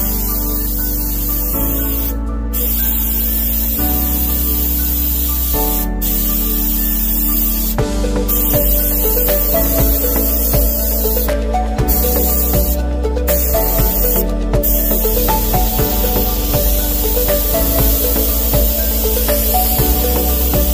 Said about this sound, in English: We're gonna be spraying with a HVLP gun, high volume low pressure